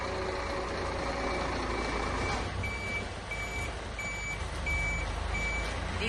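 Large sand delivery truck reversing, its engine rumbling loudly and close while a regular series of high reversing beeps repeats about once a second.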